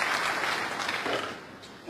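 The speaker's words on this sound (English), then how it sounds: "Well, enthusiastic applause from the crowd" Spectators at a professional snooker match in Antwerp give brief, enthusiastic applause that holds steady and then starts to fade.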